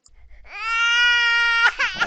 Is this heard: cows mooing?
no